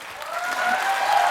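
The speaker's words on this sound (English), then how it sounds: "We got applause for that." A short burst of studio audience applause, steady even clapping heard at moderate level for just over a second.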